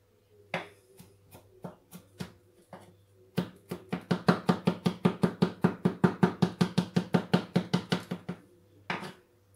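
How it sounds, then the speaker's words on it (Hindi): A knife chops garlic finely on a board, starting with a few scattered strikes and then settling into a quick, steady run of close, crisp knocks. "हमारा जो लहसुन है इसको मैंने बारीक कर लिया है।"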